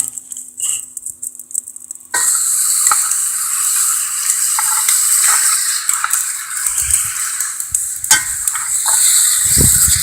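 Meat for Texas chili hits a preheated pan and bursts into a loud, steady sizzle after a brief quiet moment, with occasional clinks and scraping stirs over the constant hiss.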